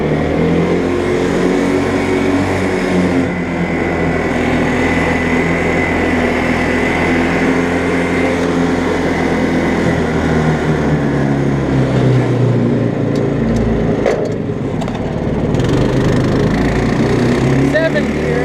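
A 1959 Case 700 tractor powered by an 11hp Honda engine drives along in sixth gear, its small engine droning loud and steady throughout, with faint speech under the noise.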